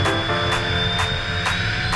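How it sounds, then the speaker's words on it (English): A Vision SF50 jet at takeoff thrust, its engine a loud, steady roar with a sustained high whine and evenly spaced pulsing swells, heard close from inside the aircraft. "Takeoff thrust, engine's good."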